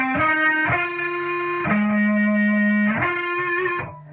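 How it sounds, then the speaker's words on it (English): An electric guitar plays a solo through heavy distortion, sustained thick notes bending and shifting in a slow melodic line, loud and alone with no talk. "So I'll just play that solo one more time with the distortion on, so you can kind of hear what it sounds like."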